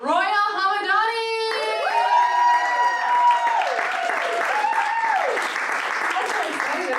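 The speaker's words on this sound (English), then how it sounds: "give a round of applause for our final comedian of the evening, Roya Hamadani!" An audience at a comedy show at the Rockwell in Boston applauds steadily and loudly, with whoops and high cheering shouts rising over dense clapping.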